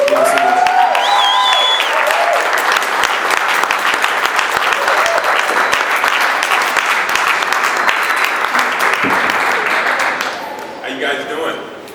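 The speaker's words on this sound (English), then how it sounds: "give him a round of applause" A large audience applauds steadily for about ten seconds at an event welcoming a speaker to the stage, the dense clapping tapering off near the end as a voice comes in.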